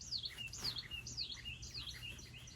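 Several birds chirp and tweet in quick repeated high calls, fairly faint over a low background hum.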